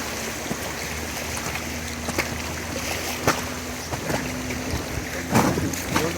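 River rafting at Jim Thorpe, with a steady wash of flowing water and rushing air, occasional paddle splashes and knocks, and brief faint voices in the background.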